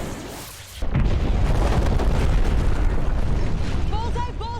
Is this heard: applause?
no